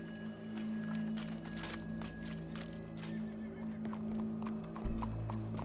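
Hooves clip-clop steadily over a low electronic hum, with a horse neighing partway through; game-like music and effects sit underneath, in Red Dead Redemption 2.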